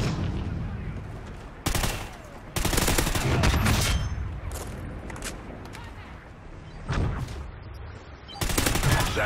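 Bursts of automatic rifle fire from a Honey Badger in the Call of Duty Ghosts video game, loud and close, firing in several separated volleys with brief pauses between them.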